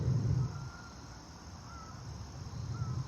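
Distant geese calling in a few faint, spaced honks over a steady outdoor hiss and low rumble.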